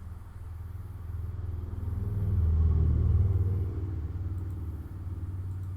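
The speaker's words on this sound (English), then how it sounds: "Got some traffic noise today." Road traffic rumbles past in a low, steady drone, swelling as a vehicle passes close and then easing back to a distant hum.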